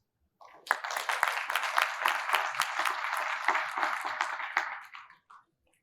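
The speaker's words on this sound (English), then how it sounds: "A bit of applause." A standing audience at a medical oration applauds, crisp individual claps forming a moderate burst that starts abruptly, runs about four seconds and fades quickly.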